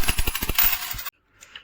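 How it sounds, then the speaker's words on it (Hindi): UAE dirham coins clinking and jingling in a hand, a quick series of close metallic taps and rattles that stops abruptly, followed by a brief faint clink. "और हाँ, सिक्के और दिखा दूँ मैं आपको।"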